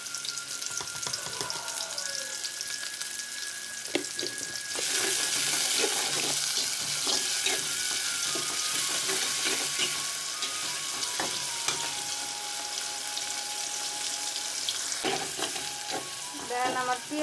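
Chopped onion frying in oil with salt, a close, steady sizzle with frequent spatula scrapes and stirring knocks, growing louder partway through.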